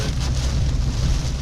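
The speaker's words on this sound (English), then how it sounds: "wind picking up again" Steady, loud wind gusting during an Iowa storm, with low rumbling buffeting across the whole stretch and a hiss of possible rain, heard from inside a car on the highway.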